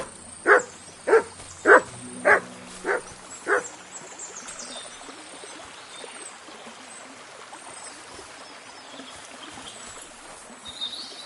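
A dog barks six times in a steady series in the medieval game Kingdom Come 2, loud and close, with a soft trickling stream and faint birds continuing once the barking stops.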